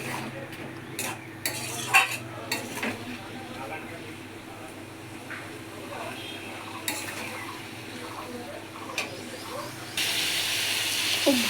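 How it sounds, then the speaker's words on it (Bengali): Masala with a splash of water being stirred and sautéed in a pan for a prawn and bata fish curry, soft sizzling with scattered spatula scrapes and clinks, voice talking over it. "একটু জল দিয়ে একটু ভালো করে কষিয়ে নিই"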